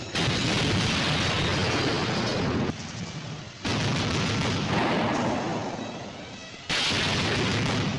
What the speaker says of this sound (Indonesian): Lalu mereka langsung baku tembak.